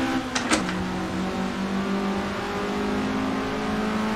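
Formula race car fitted with a Dacia engine in the Assetto Corsa racing game, holding a steady, close engine drone with a brief sharper burst near the start.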